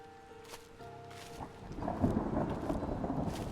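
A storm rumbles with a low roll of thunder, then rain rises into a steady patter as the backdrop for a horror narration, faint at first and building in density, with no voices during this stretch.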